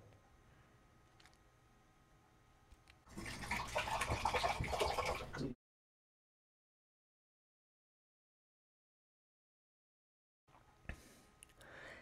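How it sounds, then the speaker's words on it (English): Slightly warm water pouring into a bottle, a loud, splashy rush lasting a couple of seconds after quieter handling noise, followed by silence and a few faint clinks. "now we're going to start with some slightly warm water and add it to our bottle"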